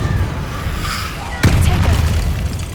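Confringo explosive spell cast in Hogwarts Legacy, a sudden boom-like burst about halfway through, with crackling fiery debris trailing off over a busy game soundscape and low rumble.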